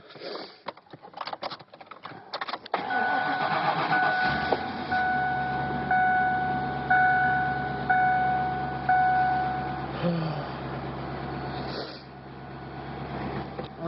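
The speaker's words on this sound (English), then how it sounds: "Start it up." A 1997 Mercury Mountaineer AWD with 135,000 miles cranks and starts on a cold day, a brief rough churn giving way to a steady, loud running engine, with a repeating chime-like tone over the first several seconds.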